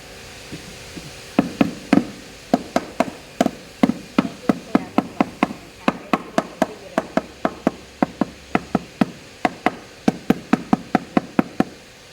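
Freshly laid floor tiles are tapped down into tile mortar with a long run of sharp, close knocks. The blows come in quick irregular clusters with brief pauses, and no one talks over them.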